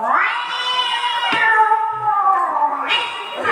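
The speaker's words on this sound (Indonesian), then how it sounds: "kucing awewena jeung kucing lalakina parasea" A female and a male cat fight, trading long, wavering yowls and caterwauls that rise and fall continuously, close and loud, with a sharp spit-like burst midway and no talking.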